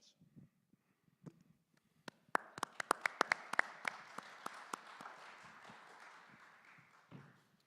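A gubernatorial forum audience breaks into applause, starting with a few isolated claps that swell into steady, moderately distant clapping for several seconds before tapering off.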